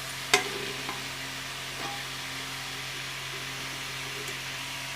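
Oil warming in a pan before tempering a red masoor dal tadka gives a steady, soft background hiss, with a single sharp clink near the start and a few faint taps after.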